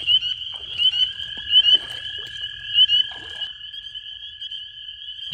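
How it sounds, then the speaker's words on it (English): Spring peeper frogs call at night in a Metro Atlanta spring field. A steady, piercing high-pitched peeping chorus carries throughout, with a second, lower continuous tone beneath it and occasional soft splashes or rustles. "There's a peeper."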